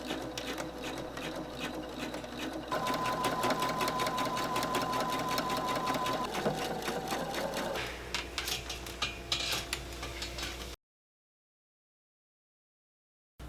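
A sewing machine runs in a continuous close rattle, stitching fabric for an evening dress, with a slight shift in pace partway through before cutting to silence near the end.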